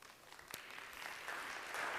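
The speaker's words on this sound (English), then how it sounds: "Please give them all a round of applause." A conference audience at a Buenos Aires event breaks into applause, soft and distant at first, then swelling into a steady wash of clapping over two seconds.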